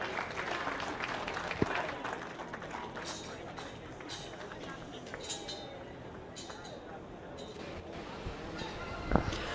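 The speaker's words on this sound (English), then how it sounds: "Let's give them another big round of applause." Light, distant crowd applause at a 4-H/FFA goat show ring, a steady patter that stays under an announcer's voice and a few clinks and thumps.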